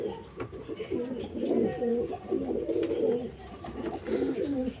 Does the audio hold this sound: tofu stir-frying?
no